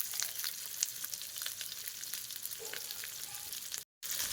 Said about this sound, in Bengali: পেঁয়াজগুলো আমি তেলে দিয়ে ভেজে নেবো হালকা